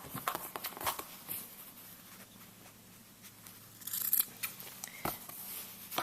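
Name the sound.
scissors clipping corners of a treat bag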